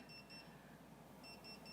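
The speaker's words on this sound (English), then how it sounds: "An egg timer going off?" An egg timer goes off indoors, a quick repeated electronic beeping in short bursts, fairly faint, pausing briefly and then resuming.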